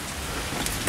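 Steady rain falling outdoors in damp weather, a dense even hiss filling the moment, close and continuous with no talk.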